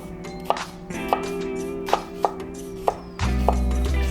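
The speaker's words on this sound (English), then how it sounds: "So I need a red onion. Slice this up however I please, I guess." A sharp knife slices through a red onion on a cutting board in sharp, separate chops, about six cuts spaced unevenly, close and fairly loud over a steady low background hum.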